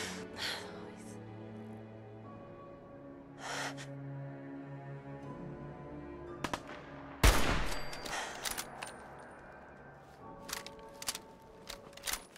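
Gunfire in the video game Fallout 4, a loud broadband burst with a quick cluster of following shots midway through, set against game music, ambient tones and other scattered effects.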